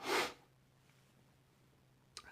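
A single loud, breathy sniff up close, then near silence before a short second intake of breath at the end.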